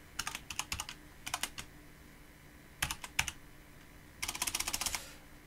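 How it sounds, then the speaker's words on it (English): A computer keyboard is typed on in quick bursts of crisp, close clicks while a password is entered, with short pauses between the flurries and no voices. "I always have a hard time typing passwords when someone is looking"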